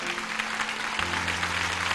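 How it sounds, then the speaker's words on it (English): Many hands clap together among a church congregation, a steady, dense patter over sustained low musical tones that shift partway through. "Clap them. Clap them for Jesus."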